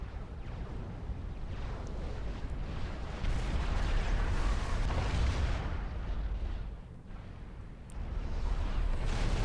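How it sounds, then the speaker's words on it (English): Continuous rumbling barrage of artillery fire and explosions in the real-time strategy game Supreme Commander 2, dense and loud throughout with repeated booms blending together, dipping briefly before swelling again. "Look at how that artillery just wipes out that army"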